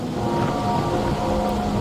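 Steady rain in the video game Wuthering Waves, a continuous broadband hiss of falling drops with a low rumble beneath and faint tonal music lines, loud and even throughout with no talk.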